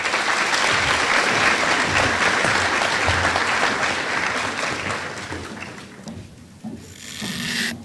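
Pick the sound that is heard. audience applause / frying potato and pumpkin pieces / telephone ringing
audience applause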